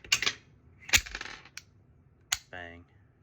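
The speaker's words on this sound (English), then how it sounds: "hear the metallic click as the slide releases, or as the sear releases" A pistol being dry-fired during a disassembly and function check gives a series of sharp, close metallic clicks as the sear releases, spaced unevenly. A short voiced sound follows near the end.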